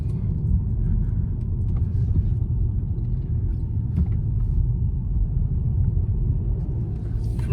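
A lowered VW Passat on stiffer springs drives along, heard from inside as a steady low road and engine rumble with no one talking.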